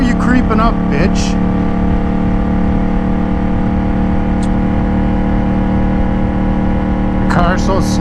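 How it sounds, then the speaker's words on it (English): A car creeps along slowly with a loud, steady engine drone that barely changes pitch, and faint high chirps come and go in the background. "The car's so slow it needs a head start."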